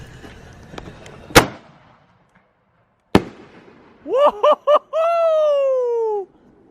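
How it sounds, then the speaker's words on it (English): Outdoors, a test firework canister goes off with two sharp, loud bangs a couple of seconds apart. Crackling follows the first, and a man then whoops in a high voice as the sound fades. "we're testing one of the canisters right now, guys. So warning, it's gonna be loud."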